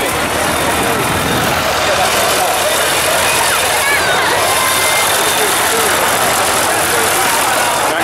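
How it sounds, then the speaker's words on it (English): A tractor engine rumbles loudly and steadily nearby at a carnival in Thornbury, a constant chugging drone that holds without pause. "And there's a tractor."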